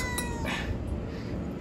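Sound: cat meowing

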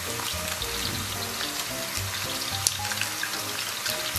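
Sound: scallion, ginger and garlic stir-frying in hot oil

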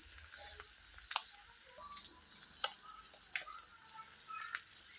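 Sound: frying masala in pan for egg curry

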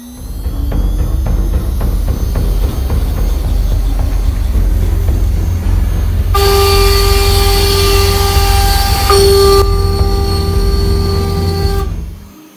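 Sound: CNC machine cutting at 400 inches a minute

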